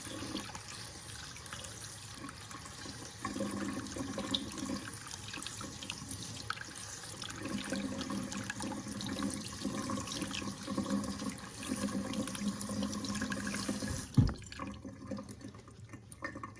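Canned pinto beans are rinsed under a kitchen tap, with a steady hiss of running water and soft splashing that continues for most of the stretch before the flow stops abruptly near the end.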